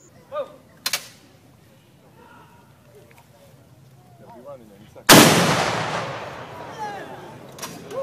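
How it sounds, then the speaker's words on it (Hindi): A single loud cannon-salute boom sound effect erupts suddenly and rolls away in a long fading rumble, preceded by quiet background sounds and a sharp click. "तो भाई तुम्हें एक तोफ की सलामी।"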